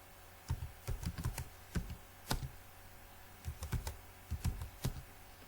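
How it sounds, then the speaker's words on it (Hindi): Typing on a computer keyboard while entering a school name in Microsoft Excel: quiet, close clusters of crisp key clicks in irregular bursts with short pauses between words. "अपने कीबोर्ड की मदद से लिख लें"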